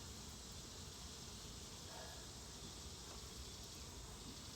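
A steady, dense buzzing hum of many honey bees during a hive inspection, continuous and close, with no voices.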